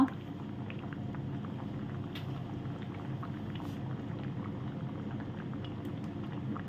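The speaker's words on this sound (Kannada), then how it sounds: "ಈಗ ಚೆನ್ನಾಗಿ ಕುದಿ ಬರ್ತಾ ಉಂಟು" A pot of prawn curry with potato and raw mango bubbles at a steady boil, a soft continuous patter and simmer with faint pops, evenly sustained and fairly quiet.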